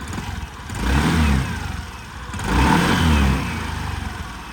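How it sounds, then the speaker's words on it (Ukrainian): A 2019 Suzuki Address 125 scooter engine runs steadily, revving up twice in smooth swells before settling back to a low hum; close by, no talking. "Самі чуєте по роботі двигуна"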